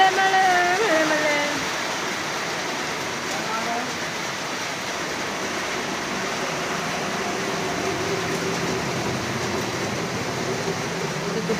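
Heavy rain pours down in a steady, dense roar that fills the whole stretch, with a voice speaking briefly over it at the start.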